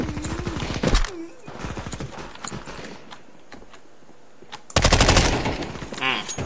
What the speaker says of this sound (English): That's an AK.